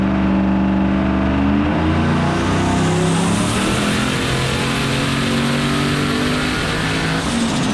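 A turbocharged Chevrolet Silverado engine on a dyno revs loud and close, holding a sustained roar that climbs steadily in pitch through the pull.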